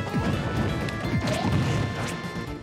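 A down smash attack lands in Super Smash Bros. Ultimate, with loud crashing, whacking impacts among layered game effects and music.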